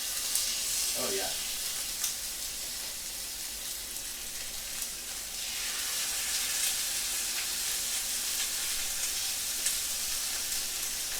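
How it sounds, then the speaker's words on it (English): Chicken pieces laid into hot fat sizzle and crackle in a pan, a loud continuous frying hiss with a surge of bright crackling midway, steady to the end. "I love that sound of the crackle."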